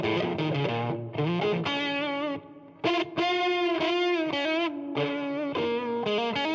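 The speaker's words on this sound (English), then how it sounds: "Here's kind of what that sounds with the door open." Fender Squier Telecaster electric guitar through a Fender amp, recorded with the door open, playing a loud, driven phrase of chords and single notes with short gaps and a reverb tail.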